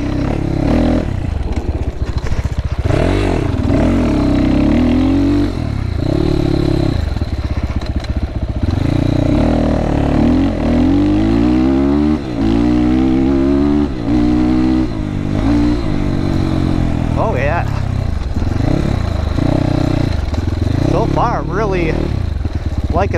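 A GPX FSE300R motorcycle engine under way on a first ride, loud and close, rising and falling through repeated revs and gear changes, with a throaty, harmonic drone and clattery mechanical edges.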